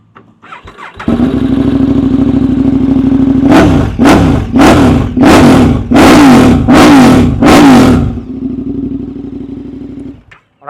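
A 2013 KTM 1190 Adventure's 1195cc V-twin engine with a Remus full exhaust system cranks and fires up, settles into a loud idle, then revs hard six times in quick bursts before dropping back to idle and cutting off.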